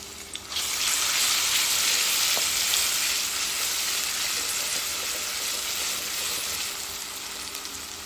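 Garlic sizzles in hot oil as the base for a boal fish curry cooked with satkara citrus, a loud, steady, close frying hiss that fades slightly toward the end.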